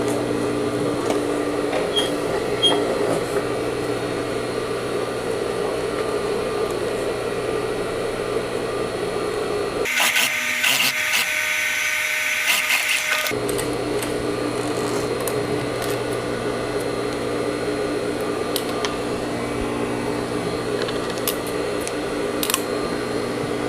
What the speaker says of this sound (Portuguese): E vou passar a costura.